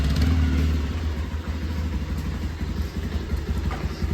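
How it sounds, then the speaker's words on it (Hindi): Motorcycle engine idling close by with a steady low rumble and light mechanical clatter, briefly louder at the start as the bike is moved out, with no talking. "ये तो बाइक ही निकाल रहे हैं अभी"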